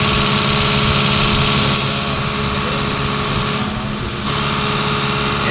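A tractor engine fitted with a modified injection pump runs hard at high speed, a loud, steady, dense roar with a brief dip in tone partway through, and no voices.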